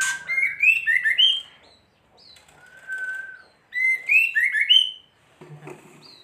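A white-rumped shama sings in clear bursts of bright whistled and chirping phrases, separated by short pauses, fairly close and alone, with a faint low thump near the end.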